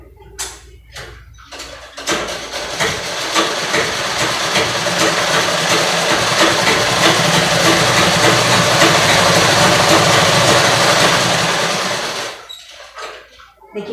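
A manual foot-pedal sewing machine stitches steadily for about ten seconds, a continuous whirring, rattling run that rises after a brief pause and stops cleanly, with a few short clicks before and after.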